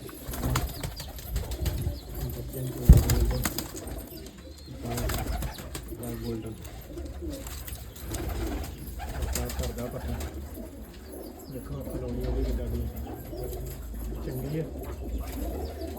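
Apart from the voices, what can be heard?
pigeons cooing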